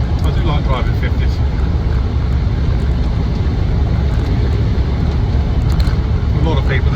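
A Land Rover Defender 90, 50th anniversary edition, drives along with its engine running in a steady, continuous low rumble and road noise that stays loud and unbroken throughout, with faint voice traces beneath.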